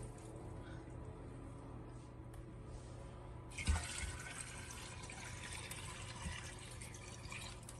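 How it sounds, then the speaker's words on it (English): Tap water gushes into a pressure cooker pot being filled to its max line for bone broth, starting abruptly partway through after a quiet stretch and then running steadily as a close, hissing pour. "fill the whole thing up with water to your max line"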